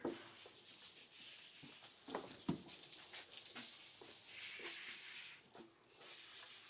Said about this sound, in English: this might have been his first wash job with a high pressure sprayer